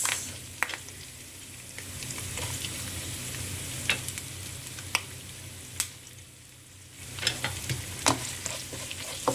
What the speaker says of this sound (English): Okay, so I've actually thrown in the curry leaves. Now I'm going to throw in the sliced onions.